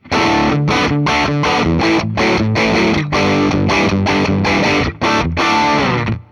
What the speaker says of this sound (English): when it comes to the dirty tones, you'll definitely want to stay on that bridge